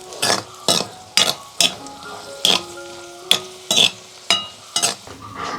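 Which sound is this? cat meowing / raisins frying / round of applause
raisins frying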